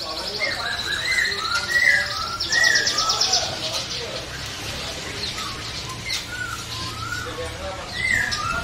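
Cucak jenggot Medan songbirds chirp in a bird shop, giving short bright calls scattered among other caged birds over a steady busy background.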